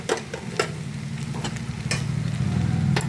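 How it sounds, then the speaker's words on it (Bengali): Cauliflower fries in a pan with ginger garlic paste and chopped tomato, giving a steady loud sizzle broken by several scraping stirs of a spatula, with no voices. "এরপরে আদা রসুনের বাটা দিয়ে দিলাম 1 চামচ, টমেটো কুচি দিয়ে দিলাম"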